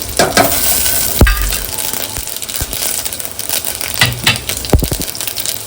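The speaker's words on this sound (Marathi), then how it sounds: "मग कसं तडतड उडतंय." Cumin and mustard seeds crackle and pop in hot oil, a loud, close sizzle with sharp sporadic bursts and no talk.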